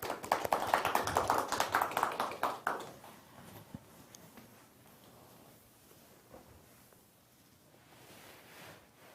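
An audience in a hall applauds to welcome a speaker at a Korean science talk event. The clapping is loud and dense for about three seconds, then quickly dies away into scattered taps and room rustle.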